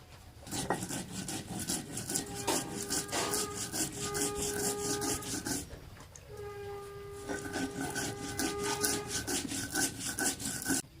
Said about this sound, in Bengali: আদা আর ধনে জিরে একসঙ্গে বেটে নেব